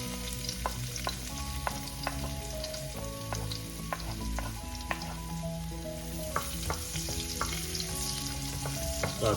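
Garlic sautéing in cooking oil for Filipino sautéed cabbage, a steady close sizzle and crackle with scattered utensil clinks and stirring scrapes running throughout, no voices.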